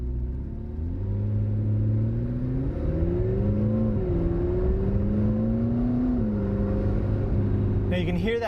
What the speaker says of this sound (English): Now you can hear that really raspy whine of the turbo spooling up.